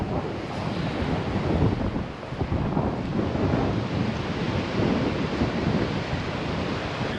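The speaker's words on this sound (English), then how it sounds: "It's really windy. I don't know if the mic's gonna pick me up" Strong wind buffets the microphone with a loud, continuous rumbling roar that surges and dips slightly throughout, with no other sounds standing out.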